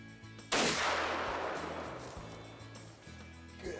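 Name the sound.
rifle shot at a buck while hunting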